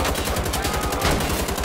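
Rapid, evenly pulsed automatic gunfire in Wolfenstein: The Old Blood on the docks, loud and close, a continuous stream of shots with no voices.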